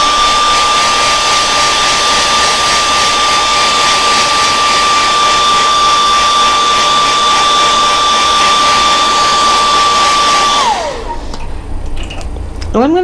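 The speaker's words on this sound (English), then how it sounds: "We're gonna give this a good heat set." A heat gun blows a loud, steady roar while heat-setting sprayed paint on a small fishing lure. It runs unbroken and close for about eleven seconds, then winds down, and softer handling noises follow.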